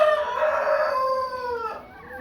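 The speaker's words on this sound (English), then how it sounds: "These are some of our eldest birds that we have. They're Chanticleer." A Chanticleer chicken on a farm lets out a loud, close, drawn-out crow with a long harmonic tone that bends down at the end, heard alone without talk.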